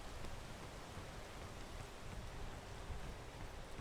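Steady, soft rain falls in the video game PEAK, a continuous diffuse patter and wash of drops with no clear individual hits, fairly quiet and unbroken throughout.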